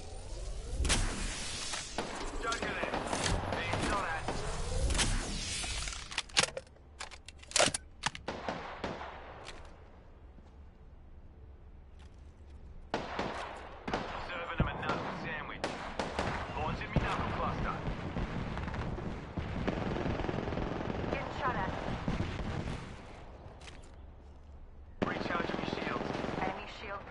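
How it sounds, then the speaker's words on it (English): Rapid gunfire from the battle royale shooter Apex Legends, bursts of automatic shots and sharp cracks coming in clusters over a busy combat mix, with a voice talking over parts of it. "Being shot at."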